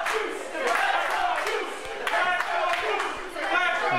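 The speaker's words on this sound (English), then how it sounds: "Crowd here at the Chop Shop starting to get behind the Juice" Wrestling crowd at the Chop Shop cheering and chanting loudly in a packed indoor venue, a steady roar of voices with scattered claps and shouts.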